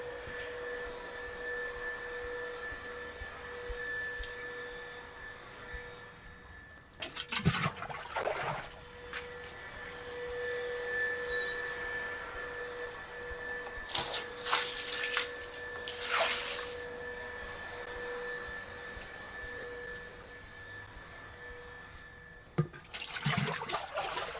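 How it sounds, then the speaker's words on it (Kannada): Intermittent bursts of water splashing onto a hard floor, a few short gushes separated by quieter stretches with a steady hum in the background. "ಸ್ವಲ್ಪ ಹಾಗೆ ನೀರು ಹೊಡೆದು ಬಿಡೋಣ್ರಿ ಎಲ್ಲ ಕ್ಲೀನ್ ಮಾಡಿ ಆಗಿದೆ"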